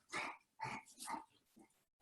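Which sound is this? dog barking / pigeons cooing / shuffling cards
dog barking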